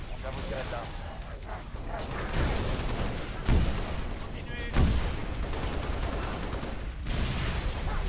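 Scattered explosions and gunfire during a Halo Reach co-op battle against the Covenant, with kamikaze enemies, booms and crackling shots rolling continuously under game voices, two heavier blasts standing out.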